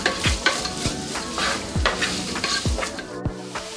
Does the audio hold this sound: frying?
yes